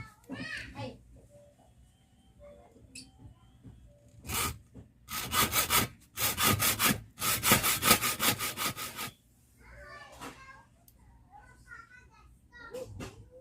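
Wood being cut with a handsaw: several loud, rhythmic rasping strokes in bursts through the middle, close by, with voices, including children, talking before and after.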